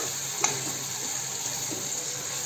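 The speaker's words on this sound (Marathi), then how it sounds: "आता आपण हे सगळं छानपैकी स्मॅश करून घेऊ पळीच्या सहाय्याने।" Tomatoes for misal sauté in a pan while being mashed with a ladle, a faint continuous sizzle broken by a sharp utensil tap and a few soft scrapes.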